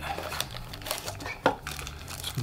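Cardboard product box and plastic packaging for a LiftMaster 877MAX wireless keypad being opened by hand, with close crinkling, rustling and a sharp tearing crackle, irregular and fairly loud.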